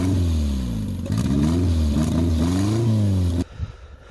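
A Ford Mustang drift car with worn motor mounts and no coolant idles and revs in rising and falling bursts for about three seconds, loud and close, then cuts off abruptly.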